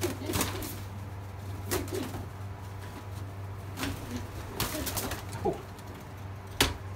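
Pigeons coo softly in a loft, with several low, repeated calls over a steady hum and a few sharp knocks or wing flutters, close by and without speech.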